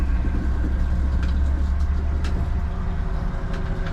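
A Yamaha T8 outboard motor on a boat gives a steady, droning low engine hum while running under throttle, continuous and fairly loud throughout with no talk.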